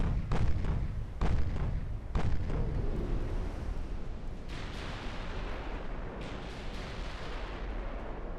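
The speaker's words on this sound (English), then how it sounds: "I think he's going to take 2 torpedoes here" Naval combat in Ultimate Admiral: Dreadnoughts, with several heavy booming impacts in quick succession early on as torpedoes strike a warship, followed by a long rolling rumble and scattered distant blasts.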